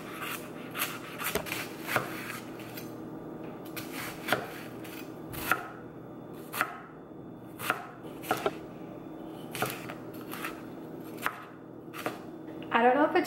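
Knife dicing food into very small pieces on a board for a plant-based lunch, crisp close chopping strikes coming in uneven clusters and single taps, with quiet pauses between.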